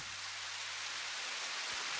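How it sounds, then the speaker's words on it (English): Rain falling in a steady, even hiss of drops on surfaces, soft and continuous from start to finish with no voices. "Wash it with the rain."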